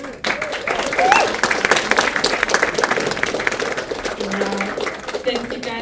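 A crowd at a film creators' event applauds in a sustained round of clapping, with voices and cheering mixed in over the top.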